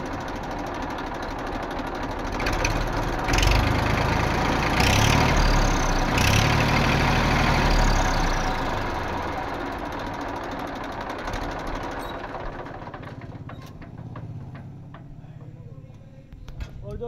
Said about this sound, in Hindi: एक बार ट्रैक्टर को स्टार्ट करके इसकी बात सुनवा देते हैं जी